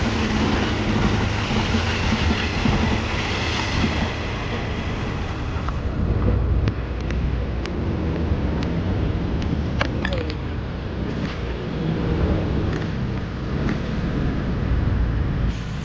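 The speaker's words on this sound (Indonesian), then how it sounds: "sekarang ada kereta nih lewat." A steady, loud rumble of a train rolling past nearby on an active track in Bintaro, Indonesia, at night, with continuous rail noise and occasional clanks, no voices.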